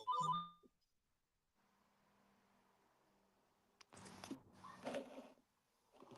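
A phone ringtone from an incoming call sounds briefly at the start as a short bright melodic burst, followed by quiet hum and then muffled noise and voices.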